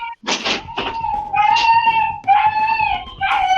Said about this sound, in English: Dog alert.